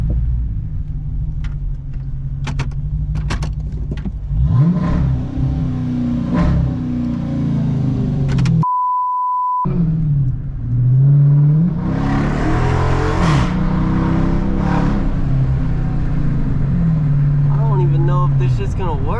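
Dodge Charger engine rumbling loudly up close, rising through several revs with sharp crackling pops of backfire, a brief beep partway through and someone talking over it.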